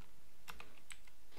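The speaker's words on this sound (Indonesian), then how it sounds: "masih susah banget ngetik ini" Typing on a computer keyboard during Android Studio coding: a handful of quiet, crisp key clicks in an uneven cluster near the middle, with soft background hiss around them.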